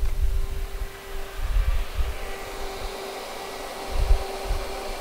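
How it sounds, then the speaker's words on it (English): Car electric cooling fans spinning up after the ignition is switched on, giving a low steady whoosh with a faint tonal hum and uneven rumbling thumps, with no talking. "the fan runs"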